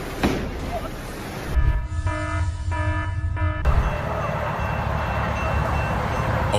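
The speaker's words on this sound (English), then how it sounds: "A train slammed directly into a semi-truck at a railroad crossing." A train collides with a semi-truck at a railroad crossing in Sleepy Eye, Minnesota, with a sustained horn blast of stacked tones cutting in midway over a rumbling low roar and background voices.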